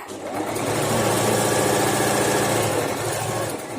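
A sewing machine runs steadily while stitching a second line of seams on a baby's cap. Its fast, even motor hum carries on without pause for nearly four seconds, close by, with no talking over it.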